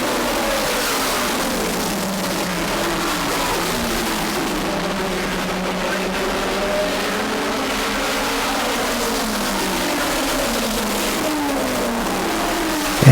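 Race cars lapping an oval track at a New England short-track racing event, a continuous roar of several engines with shifting pitch as cars pass, loud and steady throughout.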